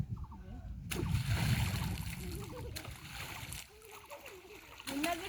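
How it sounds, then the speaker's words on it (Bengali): Water splashed by hand in a river, a loud burst of splashing near the start followed by lighter sloshing, with people talking throughout. "আমি একটু পানি ছিটা দিব"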